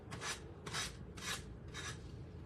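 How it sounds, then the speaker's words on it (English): Hand sanding in downward strokes on a chunky pumpkin craft kit, four distinct rasping passes in a steady rhythm, close and moderately loud with no talking. "Always sand downward."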